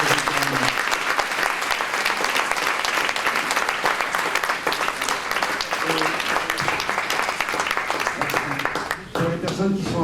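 Sustained applause from a large audience fills the space, steady and loud, tapering off near the end as a voice returns.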